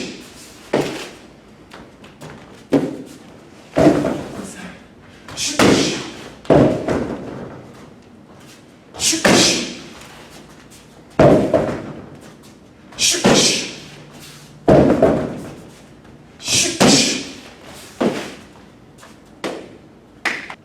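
Rear leg round kicks land on a striking target again and again, each a heavy, close thud with a short whooshing rustle, arriving every second or two in a steady training rhythm.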